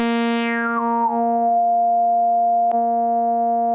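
Resonant synth filter on a JimAudio Groove Rider 2 with soft-clipped resonance: a steady, loud harmonic tone whose bright upper partials sweep downward and settle into a sustained buzz, with one brief click near the end, no talking.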